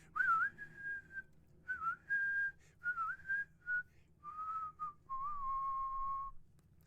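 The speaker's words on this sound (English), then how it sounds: "I can whistle really well." A person whistles a short melody alone, with clear tonal phrases rising and falling in a steady, fairly close series of notes.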